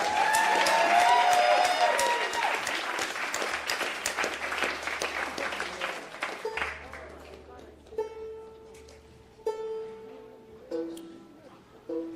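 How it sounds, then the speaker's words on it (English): A round of applause from a live audience, loud and dense at first, then tapering off into scattered claps and quiet, with a voice briefly heard as it fades. "We all give JC another round of applause."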